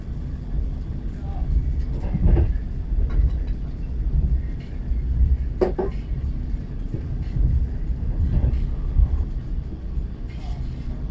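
A train rumbles steadily along the rails, with occasional clanks and knocks over the low continuous roar.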